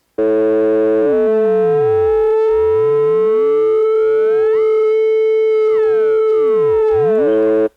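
Steady electronic tones from a Korg Volca Modular synthesizer, with harmonics that glide up and down against each other as the ratio changes, sweeping and crossing continuously at a constant, fairly loud level.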